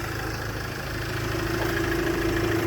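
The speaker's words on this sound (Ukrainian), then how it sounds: "моторчик шепче дуже гарно, як годинничок" A used car's engine idles smoothly and evenly, with a steady close hum and a fine regular pulsing that stays constant throughout, alone with no voices.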